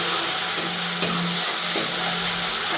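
Green chillies sauté in hot oil for a Kathiyawadi methi gatta curry, a loud continuous sizzle over a low stove hum with an occasional faint scrape.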